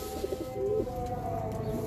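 Pigeon cooing among breeder pigeons, a soft repeated low coo heard close by with some faint background noise and no talking.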